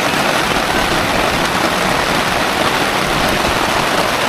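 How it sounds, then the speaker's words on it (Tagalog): Dense, steady roar of heavy rain pouring down, loud and unbroken throughout. "ang lakas ng ulan"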